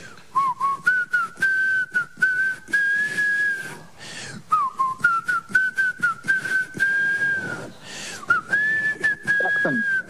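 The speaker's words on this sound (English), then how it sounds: "about to whistle the theme from a TV show" A person whistles the Home and Away TV theme on a radio show, a loud, clear melodic whistle in repeated phrases with short breaths and gaps between them.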